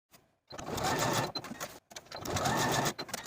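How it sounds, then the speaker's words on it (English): Sewing machine basting pockets to the top of a dress's front skirt: two quick bursts of rapid, rattling stitching separated by a brief pause, close and clear with no talking. "we can baste those pockets to the top of the front skirt on both sides"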